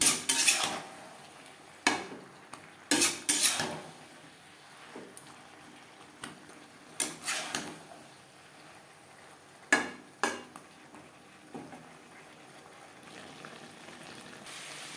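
Vegetables including eggplant are stirred with spices in a pan for a vegetable fish-head curry: irregular metal spatula scrapes and sharp clanks against the pan come in bursts over a faint frying hiss, with no voices.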